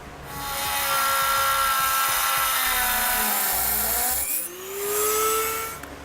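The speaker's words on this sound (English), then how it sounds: "I'm going to use a Dremel tool with a cutting blade on it." A Dremel rotary tool fitted with a cutting blade grinds through metal during a gooseneck hitch installation on a truck, a loud sustained high whine that dips in pitch as it bites, then briefly eases before revving again.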